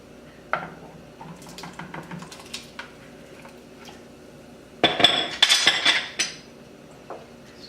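A spoon stirring vegetables and diced potatoes in a soup pot for a meatball vegetable soup, scattered close clinks and scrapes against the pot, with a denser burst of clattering partway through.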